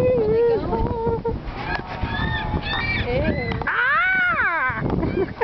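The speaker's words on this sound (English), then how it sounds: "Don't cry for me, Mr. Seagull." Seagulls near the shore give loud, harsh, repeated squawking cries that rise and fall, the longest wailing call coming near the end, with people talking in between.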